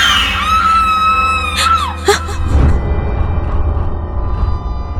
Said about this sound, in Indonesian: Tiba-tiba saja terdengar suara teriakan.